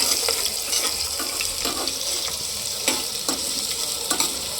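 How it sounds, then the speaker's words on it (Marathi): Onion being sautéed for khichdi bhat, a steady sizzle in the pan with a spoon scraping and stirring in irregular strokes, close and fairly loud, with no talking. "कांदा चांगला परतून घ्यायचा आहे आपल्याला याच्यामध्ये"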